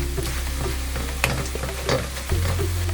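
Onions with asafoetida frying to dark brown in a pan, stirred constantly, giving a loud close sizzle with scraping strokes and a few sharp clinks.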